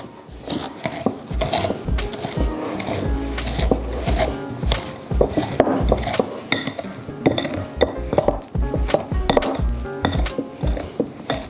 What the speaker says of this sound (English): with either a pastry cutter or a fork, whichever you have, you're gonna wanna go ahead and cut this butter into your flour, sugar, cinnamon mixture